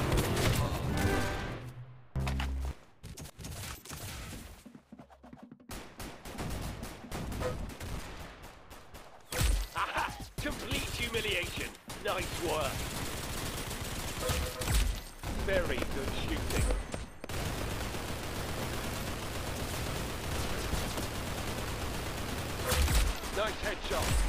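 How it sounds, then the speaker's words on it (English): Rapid bursts of gunfire from a Roblox shooting game, with repeated shots and volleys, some dropouts of near-silence, and a voice talking over parts of the action. "Nice headshot. Very good shooting."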